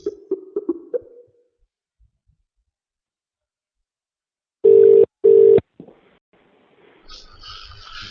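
A telephone line gives two steady, loud tone beeps in quick succession, each about half a second long, after a brief burst of line noise, then quiet with faint hiss and crackle.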